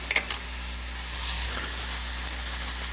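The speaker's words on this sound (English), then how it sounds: "we're browning the onions" Onions browning in a pan as the base of a curry, a continuous close sizzle with light stirring scrapes near the start, no voices.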